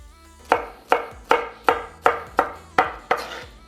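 A knife chopping pineapple into pieces on a cutting board, eight crisp, evenly spaced thuds in a steady rhythm, close and loud with no talking.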